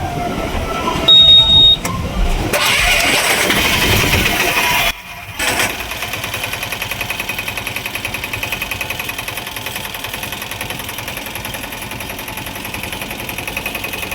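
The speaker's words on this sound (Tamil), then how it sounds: "வண்டியை ஸ்டார்ட் பண்ணு பையன்." An auto rickshaw engine in a workshop after an oil service, with loud clattering mechanical noise for the first five seconds, a brief drop, then a steady rattling idle that continues evenly to the end.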